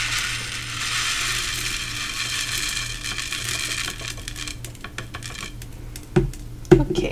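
Tiny sprinkles pour and rattle off a card base used as a makeshift funnel, a steady close trickling hiss that breaks into scattered ticks and a couple of louder knocks.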